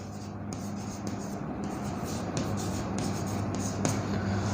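Marker or chalk scratching and tapping on a board in a classroom lesson, a run of short strokes close by over steady room noise, with no talking.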